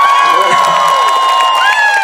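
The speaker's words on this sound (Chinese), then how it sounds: "给自己一个掌声加尖叫声" A concert audience in an outdoor park cheers and screams loudly, with high whoops and shrill voices over scattered applause, sustained and close for the whole moment.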